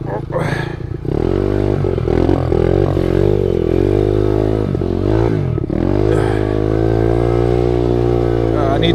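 An SSR125 pit bike engine revs and changes pitch continuously while riding on trails, a loud, buzzy drone with rising and falling tones and a short dip mid-ride, with a voice speaking over it at times.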